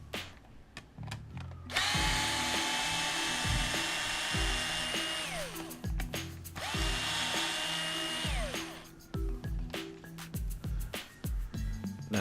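A power drill driving bolts out of the front end of a radio-controlled car, with bursts of whining motor and pitch sweeps as it spins up and slows, running through several close, loud stretches with short ratcheting pauses between.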